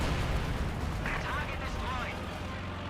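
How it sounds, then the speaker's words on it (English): A landmine detonates in the WWII strategy game Company of Heroes 2, a low booming blast amid battlefield rumble and other distant explosions, with someone talking over the action. "it looks like a landmine detonation there"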